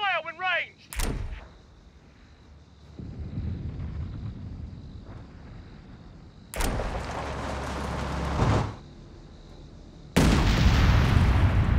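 Company of Heroes 3 battle sounds: heavy artillery-like booms and bursts of gunfire arriving in separate loud blasts, with quieter rumbling stretches between them and a brief tonal squeal at the start.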